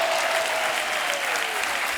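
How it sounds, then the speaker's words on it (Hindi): A studio audience at a comedy talk show breaks into loud, dense applause for the guests, continuous and even for two seconds, with a faint sustained tone underneath. "एक बार जोरदार तालियां हमारे मेहमानों के लिए।"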